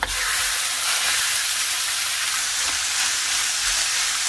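Ground beef sizzling and frying in an oiled pan for a one-pan beef pot pie, a steady, loud, close hiss that carries evenly throughout with no talking.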